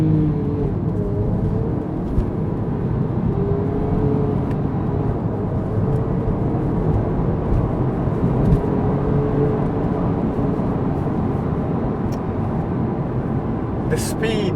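A Porsche 911 997.2 Carrera 4 GTS with PDK transmission accelerates hard in first gear, a loud, steady engine roar heard from inside the car that holds throughout.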